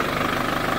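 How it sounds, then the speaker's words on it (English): A 2012 Holden Cruze turbo diesel engine idles steadily with a low, even rumble and a faint rhythmic knock, close up in a workshop during a transmission fluid change. "The car is idling."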